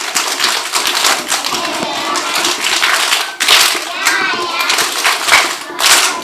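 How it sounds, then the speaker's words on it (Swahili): Schoolchildren clap their hands together in a fast, ragged patter, loud and close, with a few sharper bursts over a noisy room and children's voices chattering underneath. "mpigeni makofi"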